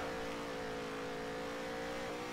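A NASCAR stock car engine in Nascar Heat 3 holds a steady, droning high-revving note at a constant pitch, quiet and alone with no speech.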